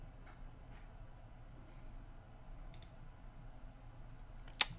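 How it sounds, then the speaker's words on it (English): One sharp, crisp button click sounds near the end after several seconds of faint background hiss. "We're gonna get a click, button click sound effect."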